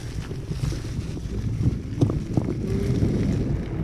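An electric scooter, a Hiboy Pro Max, rides down a road, its steady low motor drone and road rumble buffeted by wind noise across the microphone, continuous and fairly close throughout.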